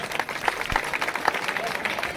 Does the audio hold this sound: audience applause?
yes